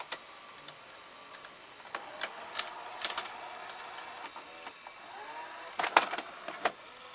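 A Fisher FVH-4000 VCR ejects a tape: a string of sharp mechanical clicks and ticks over a soft motor whir, fairly close and quiet, with a busier burst of clatter near the end.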